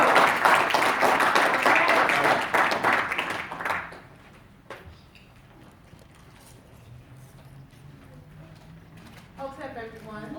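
Loud, dense applause for a guest at a Buffalo, New York commemoration for Frances Cress Welsing lasts nearly four seconds and then stops abruptly, leaving quiet room noise and a voice beginning to speak.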